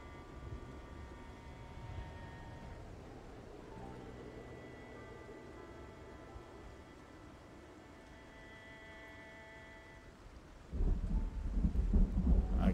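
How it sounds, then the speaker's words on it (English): In Project Zomboid, a thunderstorm plays as a low rumble of thunder over steady rain, with faint tonal game sounds layered on top. It ends in a louder crack-and-roll of thunder and gets no talk. "the thunder sound effects are just unbelievable"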